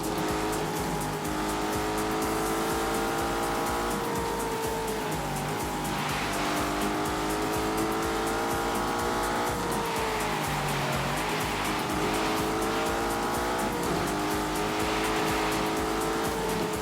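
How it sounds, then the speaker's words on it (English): Car engine idling and revving through gear changes in The Grand Tour Game, an ongoing loud, close motor drone with shifting pitch and tire noise, no talk. "What you can do is fire it up and then put the drive system into snow mode."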